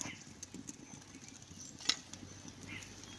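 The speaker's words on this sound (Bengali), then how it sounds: "মশলাটা ফুটতে শুরু হয়ে গেছে" Spice paste for a mango and shol fish curry bubbles softly in a pan, with faint, irregular popping and spluttering at a low level and no talk.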